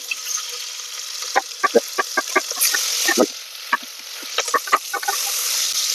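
Onions frying in a pan for a kappa and beef dish, a steady sizzle with repeated stirring clicks and scrapes throughout, close and moderately loud.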